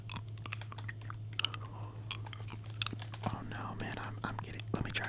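Hard candy crunched and chewed close to the mic in quick irregular bursts, under a soft steady whisper and a constant low hum during Fortnite gameplay.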